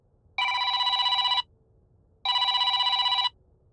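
A telephone rings twice in a scary story, each ring a sustained electronic trill lasting about a second, separated by a short silence, clear and close against a faint low background.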